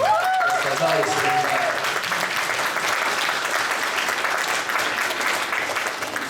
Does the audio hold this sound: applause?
yes